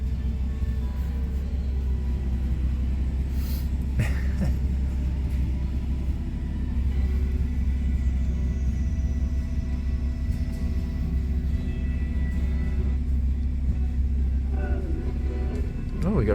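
A 1982 Ford Granada two-door with a rough-running engine, choke on, idles with a steady low rumble and uneven throb throughout, a few faint clicks and bumps on top, with no voices.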